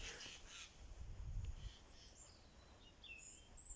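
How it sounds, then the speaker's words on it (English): Faint harsh squawking calls from a jay in the distance in sessile oak woodland, a few scratchy bursts over quiet outdoor background with a brief low rumble. "That is a jay, I'm sure it's a jay."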